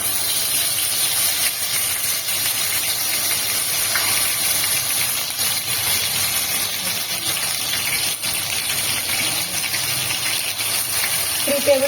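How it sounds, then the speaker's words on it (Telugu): Masala paste with ground garlic sizzles steadily in hot oil for gongura botti, a continuous close, even hiss with no clear breaks throughout. "సో ఇప్పుడు మనకి మసాలా అనేది ఫ్రై అవుతుంది కదండి"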